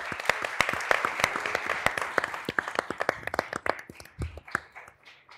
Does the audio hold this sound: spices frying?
no